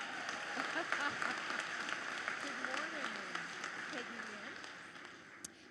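At a BCIT convocation ceremony, a hall of graduates and guests keeps up a soft, steady ripple of clapping under a voice on the microphone, fading slightly toward the end.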